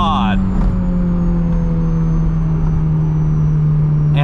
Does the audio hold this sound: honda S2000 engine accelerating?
yes